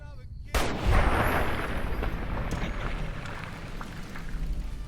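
A loud rifle shot in Fallout New Vegas booms sharply after a brief quiet moment, then rolls into a long, dense rumbling tail that slowly fades, with faint further crackles behind it.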